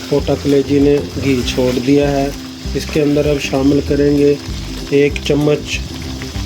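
Chicken pota kaleji (gizzard and liver) fries in ghee, a soft sizzle running beneath a person talking almost continuously.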